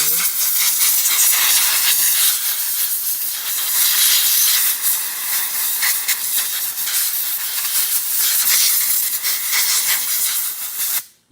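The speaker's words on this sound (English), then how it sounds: "I suggest if you have an air tank or a blower, some source of air," Compressed air blasting dust off a chainsaw part, a loud continuous broadband hiss with slight pulsing bursts throughout, cutting off abruptly at the end.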